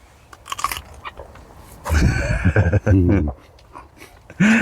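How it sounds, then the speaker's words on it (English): Crisp, close-up crunching as a fresh home-grown vegetable is bitten and chewed, loud wet crunches in short bursts with quieter moments between. "If you're into ASMR crunchy eating noises, you're welcome."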